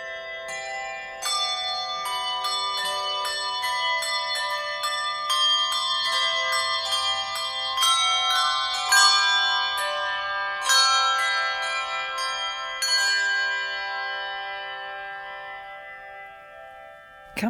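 A handbell team rings a tune on American-made handbells, clear struck tones following one another in a steady melodic sequence with lingering resonance, ending on a final chord.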